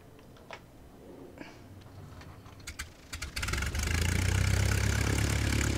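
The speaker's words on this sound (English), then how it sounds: "Oh, we should start the engine first." A vintage 1909-era propeller aircraft engine starts up in Flight Simulator X over the English Channel, coughing into life after a few faint clicks, then settling into a loud, steady roaring drone that fills the rest of the clip.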